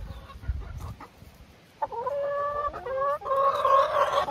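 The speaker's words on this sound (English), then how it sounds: "We finally have our first really broody hen." A broody hen makes soft low clucks, then breaks into louder drawn-out squawking calls, close by and agitated.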